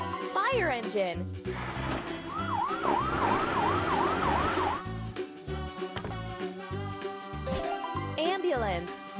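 Fire engine siren, a repeated wailing sweep over upbeat music with a noisy rumble beneath, prominent for a few seconds before playful sound effects and music continue.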